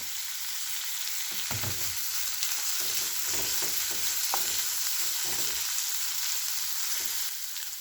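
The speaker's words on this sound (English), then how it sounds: "fry the onions really, like just saute it for few minutes" Onions sauté in a pan for a potato masala, giving a continuous close hiss and sizzle with scattered soft stirring knocks through the middle, fading slightly at the end, with no talking.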